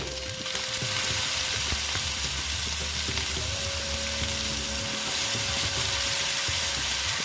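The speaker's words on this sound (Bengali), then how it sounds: "দিয়ে একটু ভালো মতো ভেজে নিচ্ছি আমি" Tomatoes fry in a pan of oil for a vegetarian soybean curry, giving a steady, loud, close sizzle that holds throughout with occasional faint clinks and no talk.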